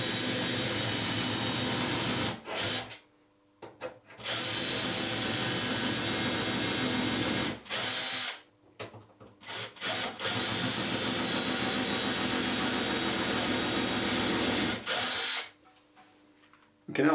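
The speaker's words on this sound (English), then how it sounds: "then simply proceed to drill the hole" A power drill whirs in several long bursts while drilling a pilot hole in wood for a hinge screw, stopping and starting with short pauses between runs, loud and close.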